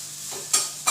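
Grated coconut is fried and stirred in hot oil in a pan, with a soft continuous sizzle and two quick scraping stir strokes close by.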